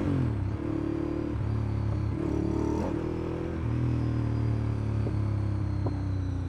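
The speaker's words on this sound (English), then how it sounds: "Pops and gurgles. All the good sounds." Ducati Monster S4R V-twin motorcycle engine rumbling steadily on the road, with a few sharp exhaust pops and gurgles scattered through the low drone, no talking.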